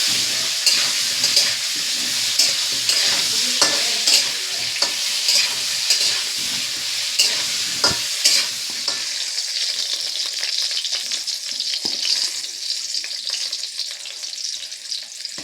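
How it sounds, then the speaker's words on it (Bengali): Potatoes sizzle and crackle steadily in a pan with turmeric and salt while being stirred, with occasional scraping clicks; the frying is close and continuous, then quiets somewhat toward the end. "হলুদ লবণ দিয়ে আলুগুলোকে ভালো করে ভেজে নেব"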